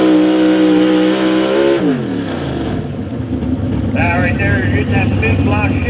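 A 1985 Chevy pulling truck called the Undertaker at a Beast of the East truck pull event, its engine revving loud and close, the note dropping sharply and then climbing again over a steady roar.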